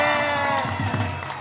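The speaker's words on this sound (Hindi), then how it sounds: "सबसे पहले तो चोकर्स के लिए तालियां बजा दे" A studio audience on a cricket talk show breaks into applause and cheering, a loud, sustained crowd roar with clapping throughout and no clear speech.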